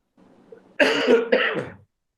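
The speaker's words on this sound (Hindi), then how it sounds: "खांसी आ जा रही" Two close, harsh coughs in quick succession following a faint low murmur, then silence.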